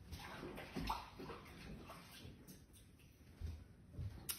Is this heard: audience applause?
no